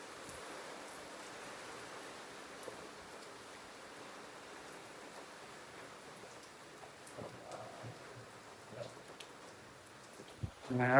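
Rain falls steadily outdoors during a wedding-day gathering in a Gujarati village, a soft, even wash of patter that holds throughout, with faint voices and a few louder knocks near the end.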